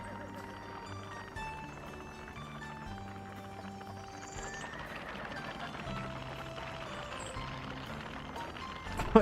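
Horses in a video game clip-clop continuously at low volume beneath a soft musical background, with no talk.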